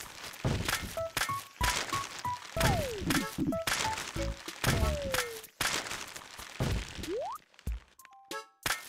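An axe chops a tree in Animal Crossing: City Folk, a series of solid thunks spaced across the clip, mixed with cartoon game blips, slides and footsteps.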